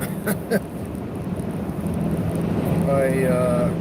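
Wind buffets the microphone outdoors on a windy day in Illinois, a low rumbling roar that swells and grows stronger over the last half, with a brief muffled voice near the end.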